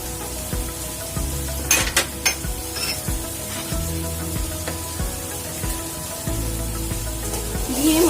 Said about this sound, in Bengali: মশলাগুলো ভালো করে কষাবো